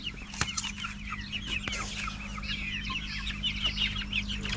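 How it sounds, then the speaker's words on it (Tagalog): Backyard chicks keep up continuous soft, high peeping and clucking close by, with a couple of sharp knocks early on and a low steady hum underneath. "Tapos ito na yung ating mga sisiw."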